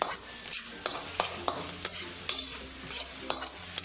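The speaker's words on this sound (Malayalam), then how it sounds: "ഈ സമയം നമ്മൾ ഇതിലേക്ക് 1 ടേബിൾ സ്പൂൺ ബട്ടർ കൂടി ഇട്ട് ഇളക്കി കൊടുക്കും" Chicken fried rice being stir-fried with a tablespoon of butter over a high flame: a steady close sizzle with repeated sharp spatula scrapes and clinks against the pan at an irregular rhythm, no voices.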